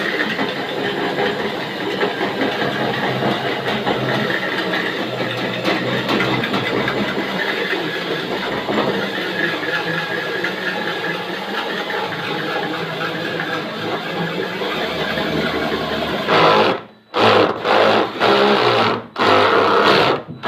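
Power cutting tool running steadily as it cuts an aluminium fuel tank for a CH 750 STOL aircraft, a loud continuous buzzing drone that stops and restarts in short bursts near the end.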